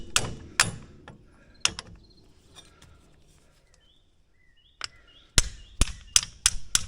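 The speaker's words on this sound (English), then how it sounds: "Or tapping it with a hammer," Crisp metallic taps of a hammer on a pin during a spring modification on a Polaris Ranger 570 SP Premium, a few spaced hits, then a quiet pause, then a quicker cluster of loud close strikes.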